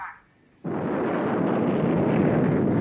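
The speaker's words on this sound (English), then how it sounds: "The American Boeing Corporation simulates a nuclear explosion." A simulated nuclear explosion at the Misers Bluff test in Arizona erupts after a brief quiet moment into a sudden, massive, sustained roar that rumbles on without letting up.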